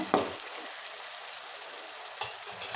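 Thick tamarind green chili gravy bubbling and sizzling steadily in a pot, a dense hiss with a few soft pops and clinks near the start and end.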